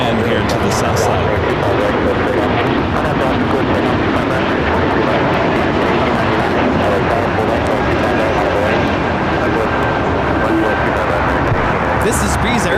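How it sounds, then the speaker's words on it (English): Breeze Airways A220-300 jet taking off at LAX, a dense continuous engine roar filling the scene at high level, with voices talking over it. "This is Breeze Airways Flight 123 taking off to Akron on the A220-300."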